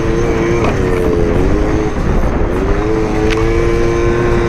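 A scooter engine works hard riding off-road up a hard-enduro hill climb, a loud, continuous droning motor note that holds steady and wavers slightly in pitch, with no talking.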